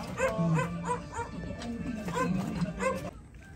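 A dog barks and yelps in a quick series of sharp calls, fairly close, with a few whimpering tones mixed in and some background voices.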